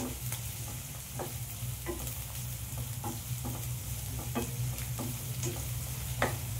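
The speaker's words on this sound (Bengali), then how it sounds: "দিয়ে আমি পেঁয়াজটা ভালো করে ভেজে নেব।" Two chopped onions and a bay leaf frying in oil for chicken, a soft steady sizzle with regular scraping and tapping stirs of a spatula against the pan, close and unaccompanied by speech.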